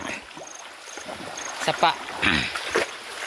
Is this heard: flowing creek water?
yes